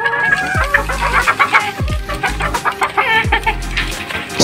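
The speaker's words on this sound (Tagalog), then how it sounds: "Sila naman ang mga paitloging manok." Laying hens clucking at close range, several loud rhythmic clucks and squawks in bursts among a small backyard flock, with no talking.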